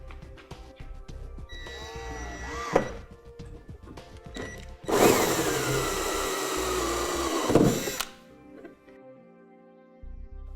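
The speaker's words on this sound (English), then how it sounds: "that our edge of our hole saw stays above our tape line" A hole saw cuts through the plastic bumper of a 2008 Infiniti G35 during a trailer hitch install, a loud whining drill run of about three seconds after brief earlier bursts and clunks.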